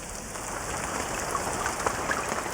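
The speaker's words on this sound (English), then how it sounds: "it's now raining cats and dogs on our archaeologists in Trench 1" Heavy rain pours steadily onto an archaeological excavation trench at a Roman town dig site, a dense, even hiss with scattered droplet splashes and patters close by, continuous throughout with no voices.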